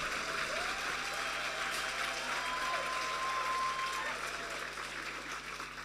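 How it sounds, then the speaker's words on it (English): Steady applause from a business conference audience fills the room, moderately loud and continuous, tapering slightly toward the end. "A round of applause."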